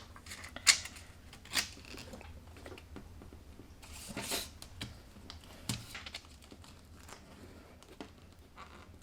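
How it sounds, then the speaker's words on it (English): Scissors or shears cut material to size while building a homemade 12 gauge shotgun perimeter alarm, giving a few sparse, quiet snips and small clicks with pauses between them. "You basically just use scissors or shears to cut it to the size you want."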